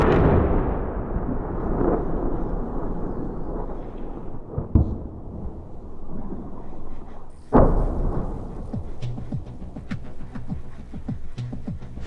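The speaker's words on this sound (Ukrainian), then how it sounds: "вони стріляють всім, чим можна. І стріляють із е, важкої артилерії, з ракет, стріляють із танків" Heavy artillery fire and explosions rumble around Bakhmut: a long rolling boom fades, a sharp thud lands near the five-second mark, then a powerful blast around seven and a half seconds rolls out, followed by scattered distant thumps.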